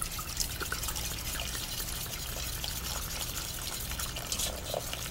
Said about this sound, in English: to our milk mixture, I am adding some beer